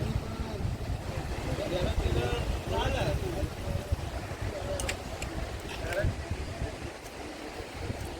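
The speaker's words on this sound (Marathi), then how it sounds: "हे वेळणेश्वर शंकराचं मंदिर आहे त्याच्या मागच्या साईडला हे आहे समुद्रकिनारा" Wind and surf on the seashore behind Velaneshwar Shiva temple in the Konkan, a steady roar of waves and wind buffeting the microphone, with people talking throughout.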